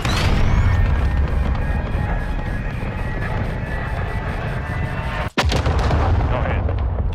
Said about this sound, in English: Target marked. Request fire mission.